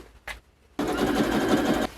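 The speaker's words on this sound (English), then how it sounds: "I should zigzag stitch this." A sewing machine zigzag stitches a flightsuit seam, starting after a short tap and quiet pause, then running steadily, close and loud, for about a second before stopping.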